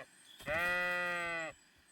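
A sheep in the medieval video game Kingdom Come: Deliverance II lets out a single sustained, wavering bleat of about a second, close and clear over faint background sound.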